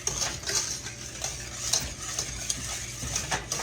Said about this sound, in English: Now we're going to mix our flour in here.